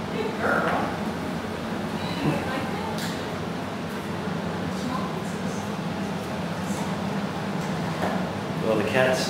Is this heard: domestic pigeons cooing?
no